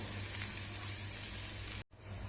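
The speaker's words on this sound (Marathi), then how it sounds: "चांगला तेलावरती 2-3 मिनिटं कांदा सोनेरी रंगावरती भाजून घेऊया." Sliced onion frying in oil in a pan gives a steady, close hiss of sizzling, cut off by a brief silence near the end before the sizzle returns.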